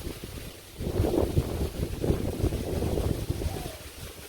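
Storm wind blows across open ground in a rural village, gusting in irregular low buffets that rise after a brief lull and keep rolling on, close and fairly soft.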